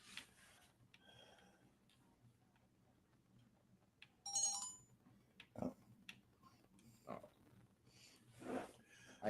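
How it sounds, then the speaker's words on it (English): Computer notification chimes during a gaming stream, a few short, separate bright blips and pings scattered across an otherwise quiet stretch, faint and intermittent. "so sorry folks, the notification sounds you hear"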